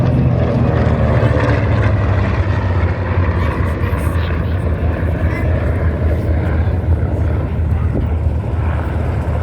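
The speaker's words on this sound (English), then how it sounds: "Two of the most capable Navy aircraft to emerge from World War II." Propeller warbirds, an F4U Corsair and a TBM Avenger, fly at the Wings Over Illawarra 2021 airshow with a loud, steady, continuous engine drone and rumble throughout, with commentary voice over the top.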